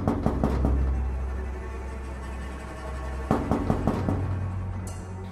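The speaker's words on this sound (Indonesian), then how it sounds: "Kemudian aku mengetuk-ngetuk pintu pagar." Someone raps repeatedly on a gate door at a villa, a quick cluster of knocks, a pause, then another burst of knocking, heard close and fairly loud.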